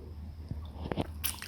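Crunchy bites of Cinnamon Toast Crunch cereal being chewed close up, a few sharp crisp crunches spaced unevenly over a quiet background.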